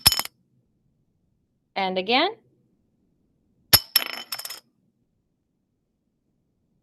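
A small plastic chip dropped onto a hard surface, giving a crisp click followed by a few quick bouncing ticks, with a brief spoken phrase before it in an otherwise quiet room.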